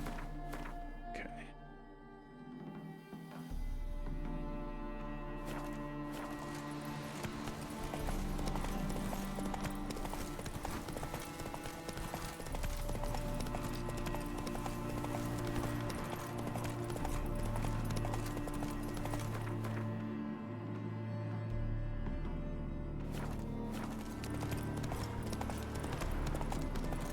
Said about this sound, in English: your horse travels faster and it's just easier to traverse terrain in general